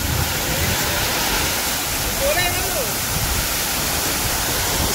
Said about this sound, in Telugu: సౌండ్ చాలా పెద్ద వస్తుంది వాటర్ సౌండ్ కిందకి స్ప్లాష్ అవుతుంది అక్కడ